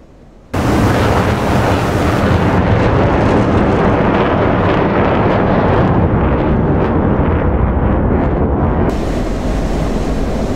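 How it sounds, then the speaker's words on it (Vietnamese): CBU-97 cluster bomb submunitions detonate over an enemy vehicle column, heard as a sudden, loud, sustained roar of blasts that blurs into a continuous rumbling wash lasting about ten seconds. "Các quả đạn con đang được kích nổ và bao trùm lên toàn bộ đoàn xe của đối phương."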